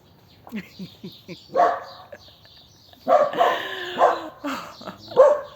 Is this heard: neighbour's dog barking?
yes